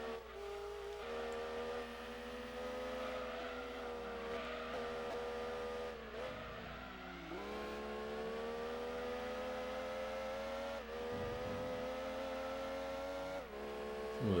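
Mazda Miata race car in the Gran Turismo 2 video game, its engine a faint, steady droning whine as it drives around the track, with brief pitch dips and shifts partway through and no talking.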